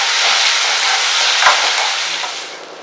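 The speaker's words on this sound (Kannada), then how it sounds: "ಬೆಳ್ಳುಳ್ಳಿ, ಈರುಳ್ಳಿ, ಹಸಿಮೆಣಸಿನಕಾಯಿ, ಗಸಗಸೆ, ಜೀರಿಗೆ, ಚಕ್ಕೆ, ಲವಂಗ, ಏಲಕ್ಕಿ ಇಷ್ಟು ಹಾಕಿ ಒಗ್ಗರಣೆ ಹಾಕ್ಕೊತಾ ಇದ್ದೀನಿ" Ginger, garlic, onion, green chilli, poppy seeds, cumin, cinnamon, cloves and cardamom sizzle in hot oil for a tempering, a loud steady hiss with a brief clink midway, fading slightly at the end.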